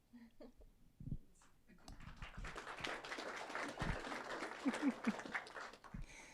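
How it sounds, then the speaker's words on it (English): Applause rises at a city council meeting as a crowd claps steadily for a firefighter's family, moderate and roomy, with scattered voices and a few small sounds at the edges. "It's right that they should get clapped for as well as you"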